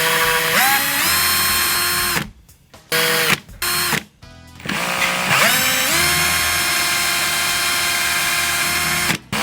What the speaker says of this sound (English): the drill is getting really hot while drilling